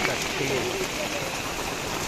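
First monsoon rain falls in a village in Mithila, a steady close hiss of drops on surfaces that continues evenly without pause.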